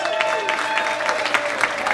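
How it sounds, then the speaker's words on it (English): Comedy club audience clapping for a comedian at a live stand-up show, a steady dense wash of applause that holds level for a couple of seconds, with a faint tone running underneath. "You stopped clapping pretty fast."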